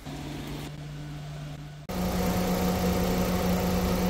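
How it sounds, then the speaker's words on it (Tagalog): A Mitsubishi Xpander GLS engine idles with a steady, even hum and a constant low drone, with a brief dip in the sound partway through before it resumes slightly louder and smoother. "In super running condition po itong engine. Rinig nyo din po yung pagkapino ng andar niya."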